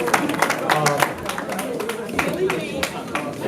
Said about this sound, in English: another round of applause for our ANC.